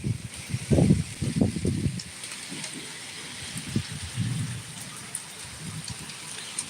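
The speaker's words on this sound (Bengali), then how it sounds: "এই দেখুন সব বৃষ্টিতে ভিজে যাচ্ছে" Steady rain patter with low rumbling, thumping bursts early on, continuing as a soft wash of falling drops.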